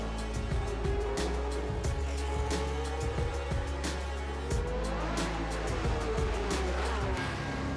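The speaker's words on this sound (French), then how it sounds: "je conduis la voiture de Niki Lauda, une voiture mythique, une voiture des années 70" Niki Lauda's 1970s Ferrari Formula 1 car at the Monaco historic Grand Prix, a high-revving racing engine with repeated sharp bursts and gear shifts, sustained and fairly near, with no voices over it.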